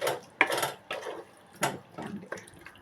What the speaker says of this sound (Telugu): ఒక్క గ్లాస్ నీళ్ళు పోసుకోండి.